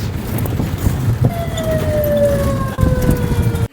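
A Chander Gari jeep in Sreemangal, Sylhet, sounds its siren-like horn signal, a rising-then-gliding wail resembling an ambulance, heard over a rumbling engine and road noise close by.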